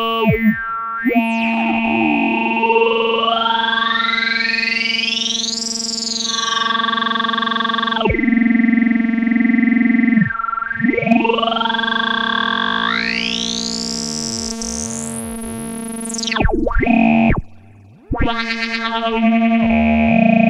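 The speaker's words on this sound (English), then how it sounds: "I'm sending audio rate to the CV resonance now." A Vibrazum synth module has its resonance modulated at audio rate, producing loud, sweeping electronic tones with warbling, croaking harmonics that glide up and down, distort, and occasionally drop out briefly.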